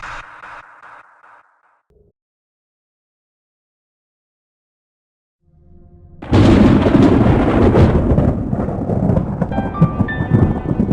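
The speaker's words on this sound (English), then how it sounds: "There's a pretty severe storm coming, and we might have a chance of flash floods." A thunderstorm in 5 Nights at Minecraft. After a short quiet gap, a loud crash of thunder breaks in and gives way to heavy, continuous rumbling rain.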